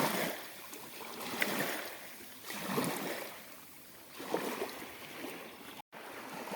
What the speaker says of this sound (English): the waves are coming much more stronger and bigger